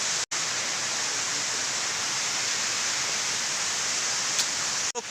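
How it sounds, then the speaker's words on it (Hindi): The Lakhaniya Dari waterfall pours from a height in a constant, even rushing roar that fills the whole span. It drops out for two brief instants, and no voices are heard. "तो पानी गिर रहा है, पानी गिर रहा है।"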